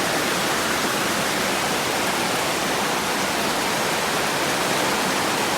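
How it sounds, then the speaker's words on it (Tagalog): Dense, steady downpour hisses without a break, a heavy rain roar that stays loud and even throughout. "Malakas-lakas ang ulan."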